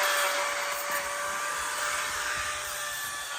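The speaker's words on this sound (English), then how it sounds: "so you can sand it down." Power tool sanding an old lawnmower part, a steady, close high-pitched whine without pauses and with no talk.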